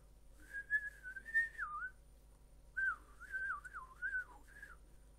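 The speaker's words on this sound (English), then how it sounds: "I can whistle to an extent, but it's a very weak whistle." A person whistles weakly in two faint, wavering phrases with a thin, breathy, airy tone and a short gap between them.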